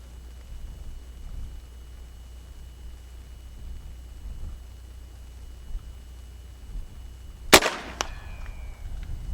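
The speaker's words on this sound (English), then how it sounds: "I'm going to shoot the JSBs, high power, 75 yards. Coke cans, left to right." A Sam Yang 357 air rifle on high power fires a single JSB pellet at Coke cans 75 yards away. One sharp, loud crack stands out against a steady low outdoor hum, followed by a brief ringing tail.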